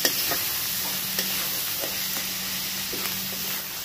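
Chicken sautéing in hot oil in a pan for chicken curry, a steady close sizzle and hiss with faint scrapes and taps of a spoon stirring throughout.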